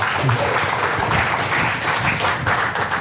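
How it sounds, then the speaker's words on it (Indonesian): Audience applause breaks out at a talk or seminar, a steady, dense wash of many hands clapping that holds for the full few seconds at fairly loud level, with a little voice mixed in. "Wah, tepuk tangan."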